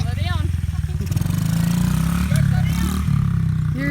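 A dirt bike engine buzzing steadily close by as it is ridden, the note wavering slightly with throttle, with people talking over it.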